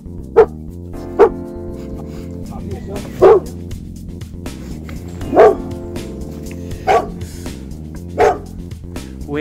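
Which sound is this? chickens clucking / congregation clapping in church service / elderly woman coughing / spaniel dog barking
spaniel dog barking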